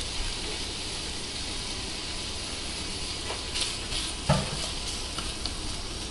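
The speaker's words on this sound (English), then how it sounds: "So I have about a tablespoon of oil in here, and I'm going to start browning the Spam." Diced canned Spam browning in about a tablespoon of oil in a pan, a steady soft sizzle with faint occasional pops and a light scrape, quiet and continuous with no voices.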